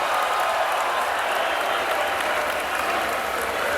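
A large crowd applauds and cheers at the 2022 NFL Draft in Las Vegas, a dense, steady roar of clapping that stays loud and unbroken throughout.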